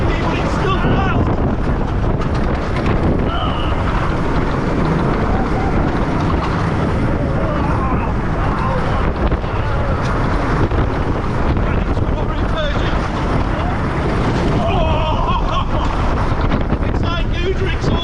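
Strong wind roars and buffets the microphone on a fast amusement park ride, a constant heavy rumble with faint voices shouting beneath it throughout.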